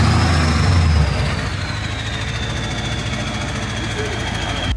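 Twin-turbo Duramax diesel swapped into a 1970 Chevelle, rumbling loudly close by with a steady low drone and a rising turbo whine that fades as it passes, with voices talking over it.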